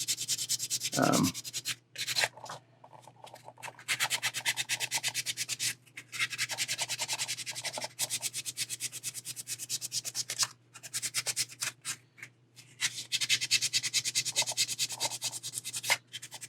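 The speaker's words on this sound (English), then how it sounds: "So I'm just going to lightly sand." A 1/4 scale Deadpool figure is lightly sanded with rhythmic, close scratchy strokes, repeated back and forth with brief pauses, and no talk.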